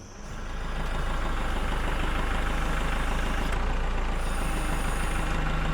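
A tractor engine runs steadily while it lifts a bucket loaded with rounds, a constant low diesel throb that rises quickly at the start and then holds even and close.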